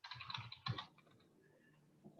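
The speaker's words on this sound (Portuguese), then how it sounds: "Esse meu teclado hoje está falhando aqui." A faltering computer keyboard being typed on, a brief cluster of soft, quiet key clicks at the start, then near silence with faint background noise.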